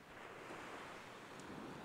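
Ocean surf on a beach with white water washing in, a faint, steady hiss of breaking waves mixed with wind noise, with no voices.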